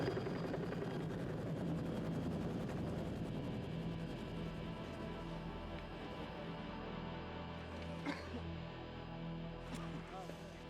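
A helicopter hovers overhead during a film shoot, its low rotor thump and engine drone forming a steady, fairly loud rumble across the whole stretch, with faint voices and movement mixed in.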